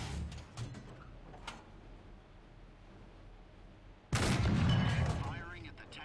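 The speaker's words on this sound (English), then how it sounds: "Firing at the tank's weak spots to destroy internal modules" Tank cannon fire in War Thunder: mostly quiet ambience with a few faint ticks, then one heavy, loud blast that rumbles and rings out for over a second.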